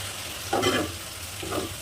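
Water poured into a pan of sizzling mutton curry brings a burst of hissing and frying crackle, with a second smaller surge a moment later, close and steady.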